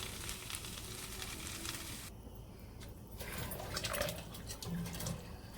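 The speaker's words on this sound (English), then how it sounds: "After frying this up for 2 minutes, I'm going to add the water" Steady sizzling of curry beef frying in a pot, continuous and close, with a brief softer dip partway through.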